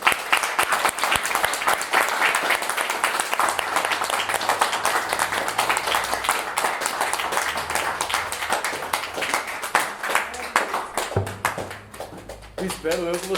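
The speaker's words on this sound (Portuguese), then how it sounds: "Uma salva de palmas." An audience claps and applauds at a magic show, dense sustained clapping heard close and loud throughout, with voices speaking over it.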